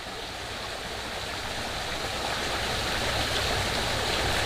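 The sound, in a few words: forest stream water bubbling past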